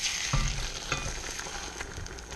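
A spatula scrapes under an egg frying in a cast iron pan, with soft scraping strokes over steady, close sizzling and spitting fat.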